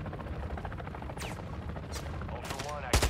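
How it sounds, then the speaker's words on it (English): AI enemies firing guns in Call of Duty DMZ, heard as rapid bursts of gunfire at a distance under constant game ambience, with a louder close shot at the end and players talking. "I can hear the AI shooting."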